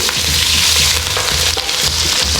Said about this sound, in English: You can see that's the sizzle we're after.